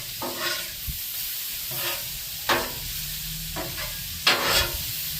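Sausage and bacon sizzle on a Blackstone griddle for a Cajun stir fry, a steady frying hiss broken by several sharp scraping and stirring strokes of a spatula on the flat-top, with no talking.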